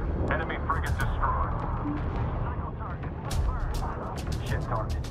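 Space battle weapons fire and explosions in the Homeworld 3 video game, a dense rumbling barrage of blasts and sharp bursts, loud and continuous, with radio-style voices speaking over it.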